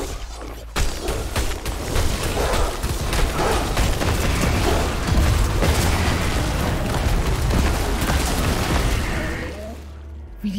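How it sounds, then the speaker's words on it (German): Rapid explosions of enemies in Diablo Immortal pop and boom continuously for several seconds, dense and loud, then cut off abruptly. "Wie die wegfliegen, wenn sie explodieren."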